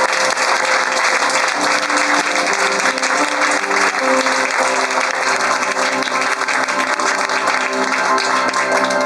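A studio audience claps steadily and loudly throughout, dense sustained applause with no one speaking over it.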